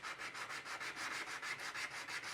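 Close, quiet hand sanding on the sharp edges of a resin piece: quick, even back-and-forth rasping strokes, roughly five per second, with no voices.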